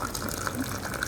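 Hot water streams from a dispenser tap into a cup for coffee, a steady rushing gush that fills the whole short moment at close range without pausing.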